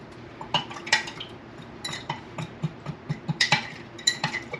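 A utensil scrapes and clinks against a bowl of mustard, dill, salt, pepper, sugar and a little liquid in quick, uneven strokes, close up and moderately loud, with no voices.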